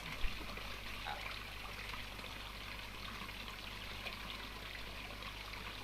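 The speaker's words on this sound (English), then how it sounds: "I've now got constant sound of running water." Steady running water streams and trickles without a break, a constant broadband wash at moderate level with no voices over it.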